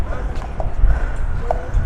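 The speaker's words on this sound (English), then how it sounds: "You can get like a horse-drawn carriage here as well" Hooves of a carriage horse clip-clop on a city street near the Royal Palace of La Almudaina in Mallorca, a few light knocks heard faintly under voices and busy outdoor crowd noise.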